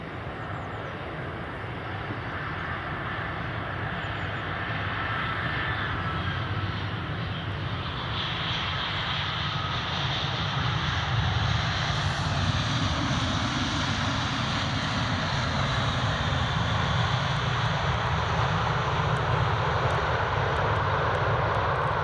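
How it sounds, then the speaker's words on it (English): A Finnair Airbus A319 airliner approaching to land at Edinburgh Airport, its engines a steady broad roar that builds gradually and stays loud and sustained throughout, with no talking. "A319, that's this one coming in."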